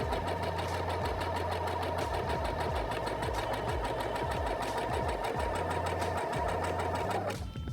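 A Singer 6805C sewing machine runs a zigzag stitch at steady speed, a loud, close, continuous mechanical whir with rhythmic needle knocking, stopping abruptly near the end.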